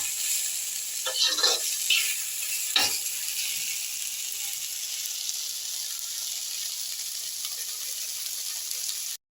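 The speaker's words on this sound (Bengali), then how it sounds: "এটাকে ভাজা ভাজা করে নিচ্ছি।" Tender young drumstick (moringa) pods frying with tomato and spices in a pan give a steady, close sizzle throughout, with a few brief stirring clatters near the start.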